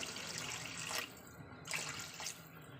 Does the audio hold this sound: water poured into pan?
yes